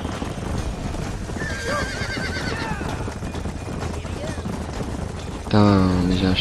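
Rhythmic galloping hoofbeats during a horse race in the video game Red Dead Redemption drum under a busy, noisy background, then a horse lets out a loud, close whinny near the end.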